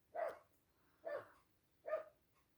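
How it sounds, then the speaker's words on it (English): A dog barks three times outdoors, evenly spaced about a second apart, each bark short and moderately distant, with quiet background between them and no talking. "I've got dogs barking outside"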